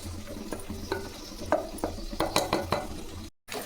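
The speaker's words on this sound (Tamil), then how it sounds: "இதை கரண்டி வச்சு இது போல் நல்லா மசிச்சிக்கலாம்" A ladle mashes well-cooked lentils for a hotel-style tiffin sambar, making a series of soft, wet taps and squelches against the pot over a quiet bubbling background.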